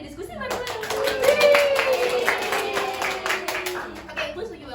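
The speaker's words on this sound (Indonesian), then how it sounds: "tepuk tangan untuk kita semua yang udah diskusi bareng-bareng" A classroom group claps for everyone who took part in a discussion, a sustained burst of close, busy hand clapping with a voice speaking over it partway through.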